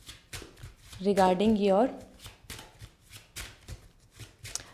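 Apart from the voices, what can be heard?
tarot cards being shuffled and pulled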